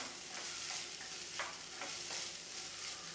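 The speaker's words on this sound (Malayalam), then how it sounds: "ഇനി കുറച്ച് സമയം ഒന്ന് നന്നായി വറുത്തെടുക്കാം." Quiet, even sizzling as crushed puttu flour roasts in ghee for laddu, with a few soft scraping stirs breaking the steady hiss.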